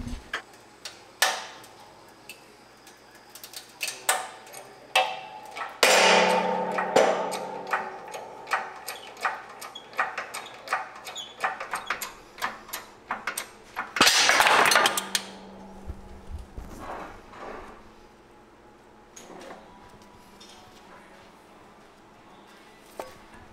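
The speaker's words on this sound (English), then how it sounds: "I've got some like spacers in the press and set up and ready to press the bearing out." A shop press forcing the worn wheel bearing out of a Honda Civic steering knuckle, on an LS VTEC swapped car, gives close, irregular ticking and clicking, with sharper, louder creaking bursts around the middle and again near the end before it settles.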